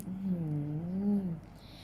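A cat being pampered at a cat spa makes a soft, low, drawn-out purring rumble, faint and close, with a gentle rising and falling tone and no speech over it.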